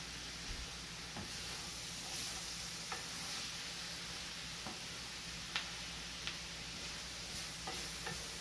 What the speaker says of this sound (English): you will smell some of the onions and the oil cooking together